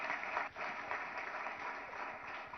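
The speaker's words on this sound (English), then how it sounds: "I think he deserves a huge round of applause." Faint, steady audience applause at the CII Telangana State annual meeting, a soft continuous clatter of clapping heard from a distance for a couple of seconds.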